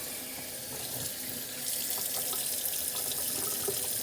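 Kitchen tap water runs into a whole raw turkey being rinsed, a steady splashing stream that grows fuller and louder partway through as the pressure is increased, with no talking.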